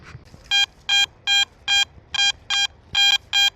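A metal detector sweeping an 1864 coach stop site sounds a high-pitched signal, eight quick evenly spaced beeps with a slight warble in the tone, loud and close.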